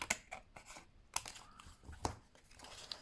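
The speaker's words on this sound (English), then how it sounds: "Let's cut this in half." Scissors cut a paper scrap in half, giving a few close, faint snips and crisp paper crinkles in an uneven rhythm, with no talking.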